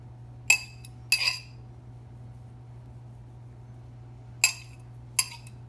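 Utensil scraping butter from a container, four short bright clinks and scrapes in two pairs separated by a long quiet gap, close and crisp against a low steady hum.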